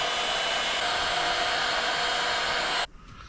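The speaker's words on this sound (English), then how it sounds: "pop the heat gun out" A heat gun blows a steady, loud broadband whoosh right after soldering on an Xmaxx V2 RC car with a Hobbywing Max6 setup, then cuts off abruptly near the end.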